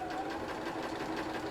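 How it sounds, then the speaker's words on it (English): Sewing machine stitching a quilt block, a steady, fast mechanical whirr with even rapid needle pulses, close and continuous with no talk. "And I'll sew that one on there."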